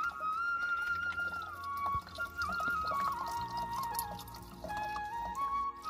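Mountain spring water in the Kedarnath Valley near Phata trickles and pours steadily off a leaf into a water bottle, a continuous close splashing flow with a shifting gurgling tone.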